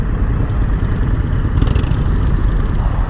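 2021 Indian FTR 1200 Rally motorcycle engine running, a loud, close, rough low rumble with steady throbbing pulses and no talk over it.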